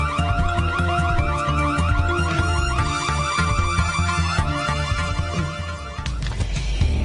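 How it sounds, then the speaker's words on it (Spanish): An electronic alarm sounds continuously for several seconds, a dense repeating tonal pattern that stays loud and steady throughout, with no speech over it. "Señores, la alarma suena."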